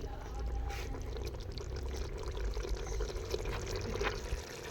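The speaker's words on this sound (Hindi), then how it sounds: "अब डालेंगे पानी," Water poured steadily into a pot of desi chicken curry, a continuous splashing gush close up, no talking.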